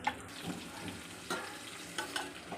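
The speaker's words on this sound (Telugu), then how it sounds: "ఇప్పుడు ఇందులో మనం ఉల్లిపాయలు వేసుకోవచ్చు" Onions added to eggs frying in a pan, a faint quiet sizzle with a few light scrapes and taps of a spatula against the pan.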